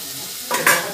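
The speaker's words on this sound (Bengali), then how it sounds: "আর এই মশলার মধ্যে ভেজে রাখা আলুগুলো দিয়ে দিচ্ছি।" Fried potatoes dropped into frying spice masala for a Bengali banana-flower ghonto: a soft background sizzle that jumps into a sudden louder hiss and stir midway through the brief moment.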